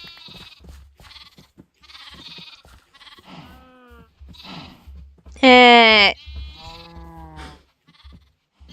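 Blocky sheep from Minecraft bleat in short, loud, wavering cries, with one especially strong bleat standing out among several softer ones, while someone talks intermittently over the game sounds.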